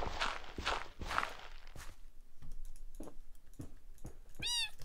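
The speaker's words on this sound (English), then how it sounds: "we got to check on the cats. They're meowing too much." Indoor cats meowing a few times near the start, followed by soft pattering footsteps and a quick rising electronic chirp, all fairly quiet against a low background hum.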